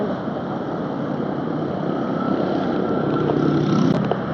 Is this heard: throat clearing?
no